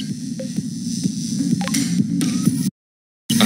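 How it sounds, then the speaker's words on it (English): Static hiss from the game Haven, a steady low throbbing hum with crackly noise that cuts to silence for about half a second near the end before resuming. "White noise"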